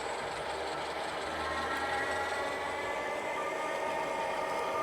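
HO scale model train with a BN Alco C-636 locomotive and a PRR hammerhead, a steady sound-decoder dynamic brake whine and rumble holding at even volume throughout, no talk.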